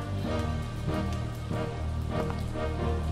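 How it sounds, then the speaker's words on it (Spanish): Rain falls in the video game Lucius II as a soft, continuous patter against surfaces, quiet and steady beneath a faint tonal background. "porque está lloviendo"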